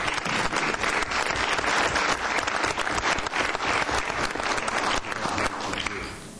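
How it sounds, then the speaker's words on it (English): Sustained applause from a council meeting audience, a dense steady wash of many hands clapping at close range that fades slightly at the end. "Let's be sure and give him a big round of applause"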